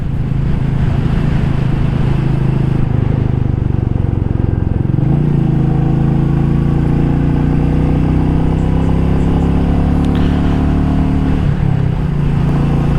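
A Royal Enfield Meteor 350 single-cylinder motorcycle on a longer ride, its steady mid-pitched engine drone continuous and close throughout, with a gear change and rising rev roughly midway and wind noise over the top.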